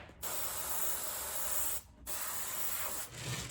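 Spray paint going onto a latex old man mask in bursts, two long hissing sprays and a shorter third, close and steady with brief pauses between.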